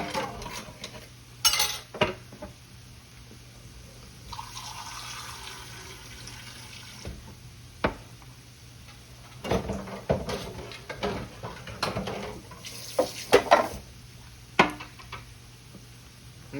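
Water is poured into a pot of smothered pork ribs with ham base, a soft rushing trickle. Scattered clinks and taps of pot and utensils come before and after it.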